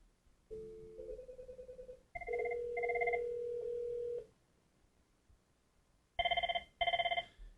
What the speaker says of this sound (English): this time the call should actually show up as ringing